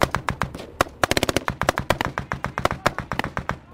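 Covering gunfire from Estonian forces on a ridge by a police checkpoint in Afghanistan: a rapid, uneven string of sharp cracks and bursts, fairly close and loud, with no talk over it.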